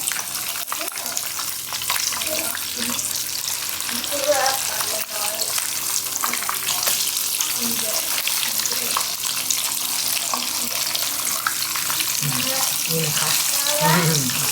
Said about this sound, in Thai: ตอนนี้เราก็ทอดไปสักแป๊บแล้วนะครับ เริ่มเซตตัวแล้วครับ